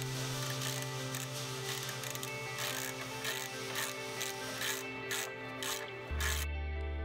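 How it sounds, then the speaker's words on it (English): A ratchet with a 19mm socket snugging a lower ball joint bracket bolt on a Toyota 4Runner suspension, giving a steady run of close, rapid clicking strokes that stop near the end. "Install the bolt and snug it using a 19mm socket."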